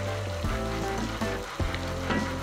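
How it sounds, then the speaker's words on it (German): Steady frying sizzle of butter browning in a pan, a continuous crackling hiss with occasional louder pops and bubbles, close and fairly loud. "die Butter wird schon ein bisschen braun"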